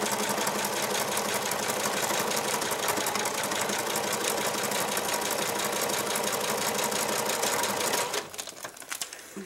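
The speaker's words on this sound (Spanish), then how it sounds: "eso así como voy a estar cosiendo las piezas" A sewing machine runs at a fast, steady stitching buzz, joining wallet pieces cut from juice pouches. It sounds close and continuous, then stops abruptly near the end.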